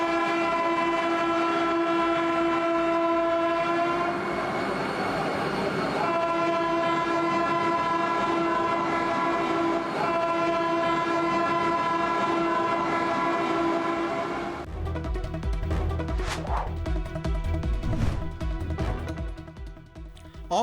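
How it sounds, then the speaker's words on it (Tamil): Vande Bharat express train on the Jammu Katra to Srinagar route, running loud and steady with a continuous horn-like tonal drone, then rumbling, clattering wheel and track noise toward the end. "ஜம்மு கட்ராவிலிருந்து ஸ்ரீநகர் வரை 2 வந்தே பாரத் விரைவு ரயில்களின் சேவையையும் பிரதமர் மோடி கொடியசைத்து தொடங்கி வைத்தார்"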